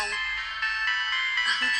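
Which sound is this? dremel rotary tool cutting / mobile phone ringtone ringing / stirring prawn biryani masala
mobile phone ringtone ringing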